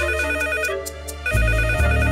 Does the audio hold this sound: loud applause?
no